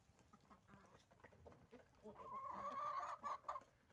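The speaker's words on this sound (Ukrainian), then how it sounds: "кури випустили і вони зразу прибігли до зерна так якби ніколи не бачили" A flock of farm hens, just let out and running to scattered grain, clucks softly at first and then grows into a denser, louder chorus of close clucking and chatter.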